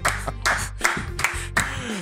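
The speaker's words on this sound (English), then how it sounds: "Slow clap." A few deliberate, widely spaced claps in a podcast studio, about four distinct smacks roughly half a second apart, close and fairly loud with a ringing tail, and no talking.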